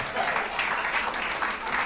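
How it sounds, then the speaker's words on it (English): Church audience applauding the pastor, a steady wash of clapping with voices mixed in, continuous and fairly close for the whole stretch. "so give him a round of applause"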